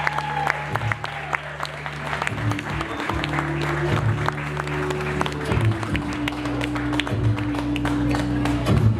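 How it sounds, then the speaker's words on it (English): Wedding guests applaud a couple's first dance: sustained, dense clapping from a crowd that carries on throughout, mixed with the slow dance music playing in the background. "Let's applaud them as they dance in front of many for the first time as husband and wife."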